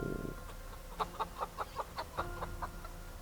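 A hen in the Project Zomboid game clucks in a quick, even series of short notes, faint against a low steady hum, with no speech.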